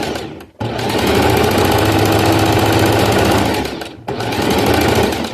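A domestic sewing machine stitching knit fabric gives a loud, steady mechanical whir with a rapid needle chatter, running continuously apart from two brief pauses.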